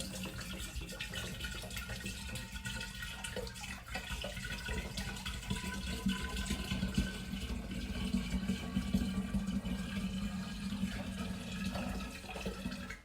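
Steady running water poured through a funnel for the whole stretch, a continuous splashing trickle with no voices.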